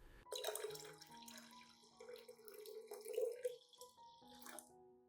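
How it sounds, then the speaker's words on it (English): Lime juice being poured into a molasses solution for homemade orchid fertilizer, a quiet trickling liquid pour with small splashes and drips at close range, no talking. "I pour the remaining lime juice from earlier into the molasses solution."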